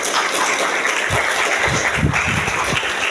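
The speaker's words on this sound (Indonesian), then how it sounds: "Tepuk tangan buat teman-teman semuanya." Students applauding at a motivational prayer gathering before national exams at an Islamic junior high school, a loud, sustained crowd clapping with a few stronger bursts of hand claps, heard up close.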